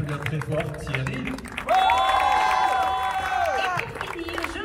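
Audience clapping and cheering at a Disneyland Paris closing-night event for Armageddon: Les Effets Spéciaux, greeting a cast member; a sustained burst of applause jumps up partway through and stays loud and dense to the end.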